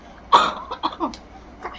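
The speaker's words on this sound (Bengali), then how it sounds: "কাশি হয়েছে।" A single sharp cough followed by a few smaller throat-clearing coughs, close and fairly loud in a quiet room.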